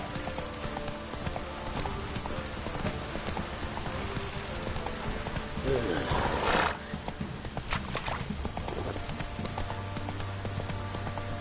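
The horse Roach's hooves clop rhythmically in The Witcher 3 game, with a neigh rising midway and light rain hissing in the background.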